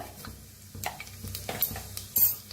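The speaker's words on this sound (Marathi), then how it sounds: "आता ह्याच्यात टाकूया 1 चमचा मोहरी." Mustard seeds and cumin sizzling in hot oil and ghee in a pan, soft crackling and spattering with a few spoon scrapes against the pot, close and fairly quiet.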